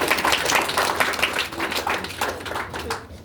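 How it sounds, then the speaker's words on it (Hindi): Audience at a direct selling seminar breaks into brisk, steady applause, a close and continuous patter of many hands clapping with no speech over it. "सर के लिए तालियां।"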